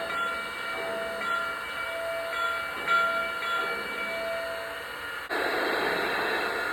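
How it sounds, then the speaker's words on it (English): A Lionel Visionline 4-6-4 700E Hudson model steam locomotive sounds its whistle in a steady, continuous tone over constant mechanical hum, then a loud burst of hissing steam breaks in near the end. "here's the whistle on the locomotive. And watch what happens when I blow it."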